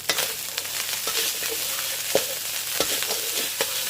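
Ham fried rice stir-fried in a pan until dry, a steady crackling sizzle with repeated spatula scrapes and taps at an irregular pace, close and moderately loud, no talking.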